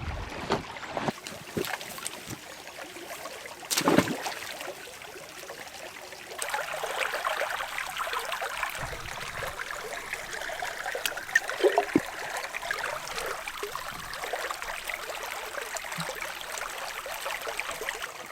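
A running creek trickles and burbles steadily outdoors, moderately close, with some wind and a few louder splashes or knocks early on. No one speaks.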